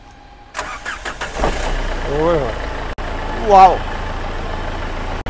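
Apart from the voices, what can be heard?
2015 model car engine started with self-starter, then idling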